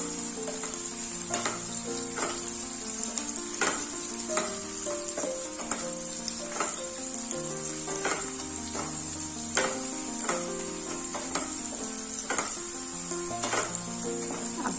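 Ginger garlic paste sizzles and fries steadily in a pan for dum veg biryani, a constant close crackle with occasional stirring scrapes and clinks of a spoon against the pan.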